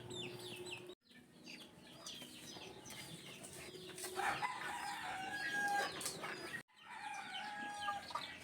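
Hungry chicks chirp in a dense, continuous chorus of high peeps near a brooder, with clucking and crowing from adult chickens mixed in. Brief gaps break the sound twice.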